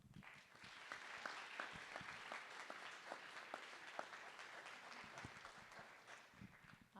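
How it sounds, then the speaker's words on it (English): Applause at a board of education meeting, a sustained round of clapping from a room of people, fairly distant and even, fading slightly toward the end. "So round of applause."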